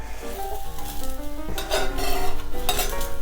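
A spatula scraping and tapping around the edges of a chickpea omelette in a frying pan, metallic clinks and scrapes over a gentle sizzle, growing busier and louder in bursts toward the end.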